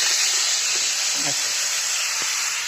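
Buttermilk mixture poured into a hot spiced tempering, giving a loud close hissing sizzle that fades slightly, with a brief faint voice in the middle.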